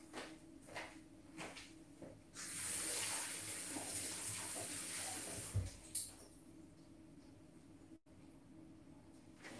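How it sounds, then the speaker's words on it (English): Water runs steadily from a tap during handwashing, a continuous hiss that starts after a couple of seconds and stops before the end, with a few thumps and handling noises around it. "I go to wash my hand."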